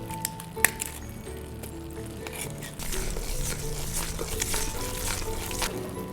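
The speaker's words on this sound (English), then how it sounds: "We're going to go ahead and stir in the honey." Honey is stirred into melted butter and brown sugar in a pan, with soft squishing and clinking of the spoon over a faint sizzle, getting a little louder partway through.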